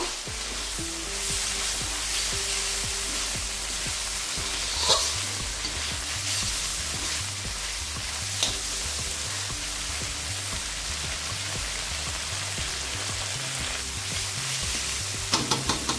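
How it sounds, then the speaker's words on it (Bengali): Shaluk water lily and shrimp frying in a pan, with a continuous soft sizzle and a few sharp clinks of stirring, close and fairly quiet. "এটাকেও আমি মাছের সঙ্গে 2 মিনিট ভেজে নেব।"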